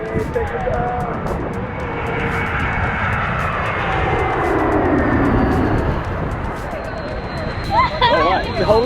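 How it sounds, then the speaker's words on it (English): A low-flying airplane passes over a beach in St. Martin, its engine roar swelling steadily and staying loud throughout over a crowd hubbub on the sand, with voices and shouts rising near the end. "When you're at the beach, you're near that airplane area, you get blown away like an airplane."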